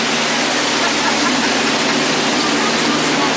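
A waterfall on the Disney Jungle Cruise ride at Magic Kingdom roars as a loud, continuous, broadband rush of pouring water close by, with nothing else heard over it.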